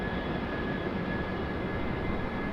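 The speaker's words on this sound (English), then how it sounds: "Nice sound, an A319 departure." Airbus A319 airliner departing from Raleigh Durham airport, a loud steady jet engine roar with a thin high whine running through it, continuous and close.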